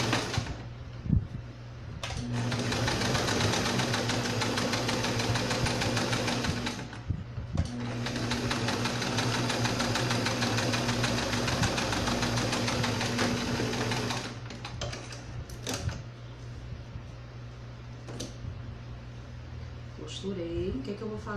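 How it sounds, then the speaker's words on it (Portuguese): A sewing machine runs a safety stitch along a fabric edge on a doll-making project in two steady, rapid humming runs of about five and seven seconds, with someone speaking softly at the start and after the stitching. "Aqui nessa abertura, eu vou passar uma costurinha de segurança bem na bordinha, só para fechar isso aqui"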